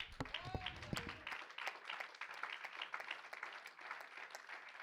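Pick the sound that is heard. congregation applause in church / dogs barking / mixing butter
congregation applause in church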